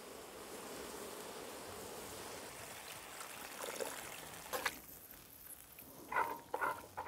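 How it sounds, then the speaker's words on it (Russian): Water pours into a cauldron over an open fire for Bukhari green plov, a steady gushing stream that fades, followed by a few brief clanks near the end. "И заливаем воду."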